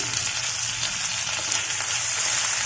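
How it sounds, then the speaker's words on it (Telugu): Tomato, ginger and garlic fry lightly in a pan with a steady, even sizzle and no voices. "ఇది లైట్గా ఫ్రై అవ్వాలండి, టమాటాలు మెత్తబడేదాకా"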